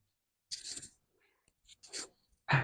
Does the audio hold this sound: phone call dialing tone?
no